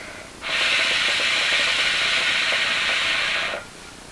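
A single long draw on a hookah packed with Alrayan grape molasses: a steady bubbling hiss that starts abruptly, holds evenly for about three seconds at close range, then stops, with no talking.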